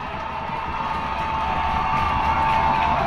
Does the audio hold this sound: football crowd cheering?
yes